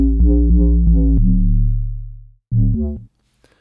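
A chorused, detuned synth bass shaped with a dimension expander, chorus and compression plays deep sustained notes, a long decaying tone then a short stabbed phrase, loud and alone.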